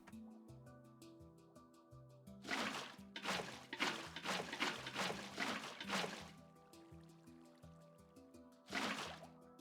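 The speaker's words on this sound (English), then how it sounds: "and fill this with water" Water poured from a bucket to fill a container in Minecraft, a run of splashy pouring bursts over several seconds and one more near the end, all over steady background music.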